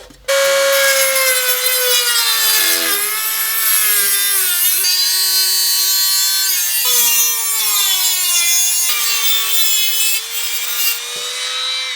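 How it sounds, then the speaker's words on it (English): An angle grinder cuts away metal from a mini lathe's motor mount, a loud, close, continuous high-pitched whine with shifting pitch as the disc bites and eases, running nearly unbroken throughout. "So out with the grinder."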